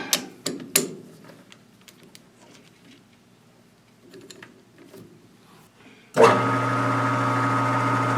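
A Grizzly G4003G metal lathe starts up to cut off a bushing, its motor jumping to a loud, steady whine with a constant hum after several scattered clicks and taps of handling the part.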